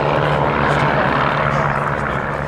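The Team Raven formation display aircraft fly over the Duxford air show, a loud, steady propeller engine drone with a strong low hum, continuous and close.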